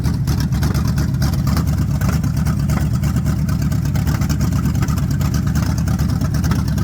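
A 1982 Chevy C30 engine runs steadily with an out-of-tune carburetor, a loud, continuous close-up rumble that holds an even idle throughout, with no voices.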